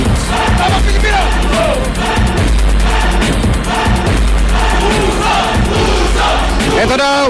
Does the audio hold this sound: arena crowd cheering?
yes